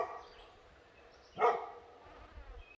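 A dog gives a single faint, distant bark outdoors near a hill by a beach, standing out briefly against quiet background noise.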